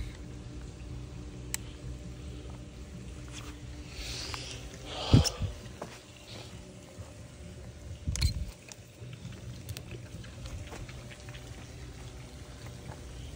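Water wells up into a pool pump basket with soft gurgling and pouring sounds, a couple of brief splashy surges standing out from a faint, steady background.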